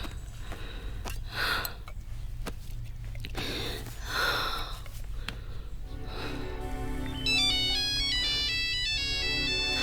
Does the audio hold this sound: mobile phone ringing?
yes